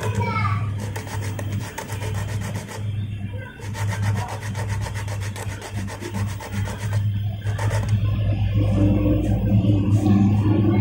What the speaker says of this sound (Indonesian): kemudian kita haluskan lagi dengan menggunakan amplas supaya lebih rata lagi